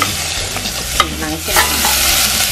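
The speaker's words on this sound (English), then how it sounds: "We're gonna saute the garlic first." Garlic sautés in hot olive and virgin coconut oil in a caldero, a loud close sizzle with a stirring knock that swells into a denser hiss.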